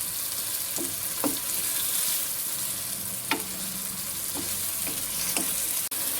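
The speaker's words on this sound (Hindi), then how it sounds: "थोड़ा सा पानी डाल के इसको हम फ्राई करेंगे," Chicken frying in a pan with a small splash of water added, giving a steady sizzle with a few soft clicks and stirring taps throughout.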